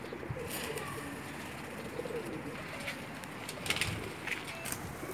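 Pakistani pigeons, a male and female pair kept in Jeddah, Saudi Arabia, coo softly and repeatedly over a constant rushing background hiss, the calls faint and somewhat distant.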